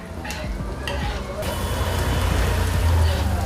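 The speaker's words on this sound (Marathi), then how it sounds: "बटर आणि तेलामध्ये कांदा आणि लसूण वगैरे असा छान असा परतला" Onion and garlic sautéing in butter and oil on a pan for vegetable tawa pav, a dense crackling sizzle that swells louder midway, with a few utensil taps early on and a low rumble underneath.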